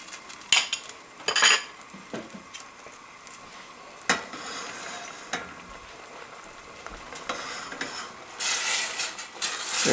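Black bean sauce thickened with cornstarch being stirred in a pot, with repeated scraping and clinking of a utensil against the pot and a soft sizzle underneath, in irregular bursts and with no talking.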